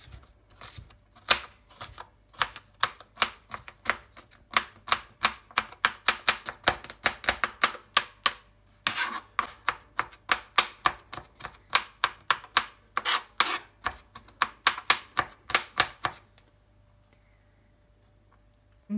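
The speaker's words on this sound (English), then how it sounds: "And then I chopped them." A knife chops crushed garlic on a cutting board, a long run of quick, crisp, close taps in rapid rhythm with a brief pause midway, stopping near the end before one last knock.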